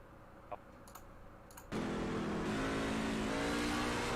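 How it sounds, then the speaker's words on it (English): A race car in a truck-series racing video game at Martinsville, where a few soft clicks give way to an abrupt loud engine roar that holds at high revs. "Did he downshift?"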